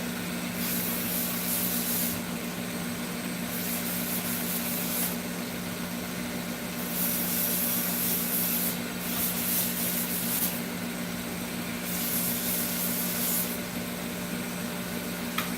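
A buckeye burl wood knife handle being sanded at 220 grit, likely on a power sander, a continuous hissing hum with bursts of brighter, scratchy abrasion coming and going in passes of a couple of seconds.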